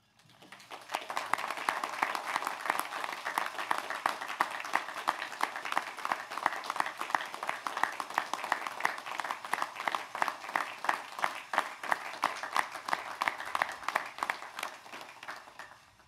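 An audience at an in-person commencement applauds graduates' parents, a steady sustained round of clapping from a large crowd that swells in and fades out at the end.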